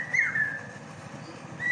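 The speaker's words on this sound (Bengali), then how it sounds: "এই যে কি পাখিতে ডাকে" A bird calls from a tall tree outdoors, two clear whistled notes, one near the start and a shorter one at the end, moderately loud over a soft background hum.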